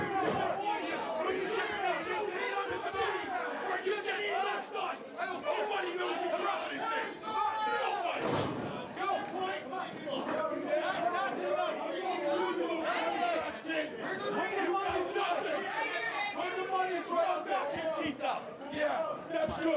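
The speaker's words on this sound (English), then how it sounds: "The crowd's letting them hear how they feel." A wrestling crowd shouts and jeers continuously, a dense wash of voices with louder outbursts, heard from within the arena.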